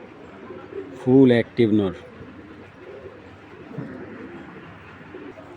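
Military-breed pigeons give a short burst of cooing, two close phrases near the start, over a faint steady background, while someone speaks briefly.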